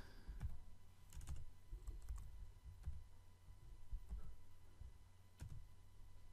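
Someone types on a computer keyboard, including pressing Ctrl+S, with a quiet, close run of scattered clicking keystrokes in irregular bursts and no speech.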